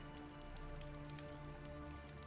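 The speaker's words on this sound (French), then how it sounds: "La pluie..." Rain falling in the video game Horizon Zero Dawn on PS4, a dense, steady patter of drops on surfaces over a low humming game background, quiet and continuous.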